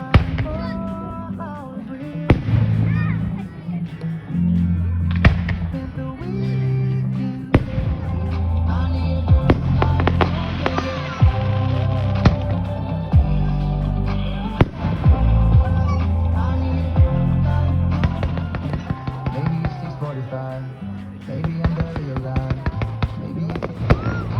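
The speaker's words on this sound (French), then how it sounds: "je voulais qu'on entende les bruits des feux d'artifice" Fireworks explode repeatedly in a finale in Creuse, France, with scattered booms and crackles over music, the bangs arriving in irregular bursts.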